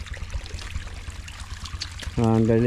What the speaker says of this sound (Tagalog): Nadala siguro sa balde ba. Ayan, ibabalik natin ng tubig para mabuhay ang mga maliliit dyan na pasayan.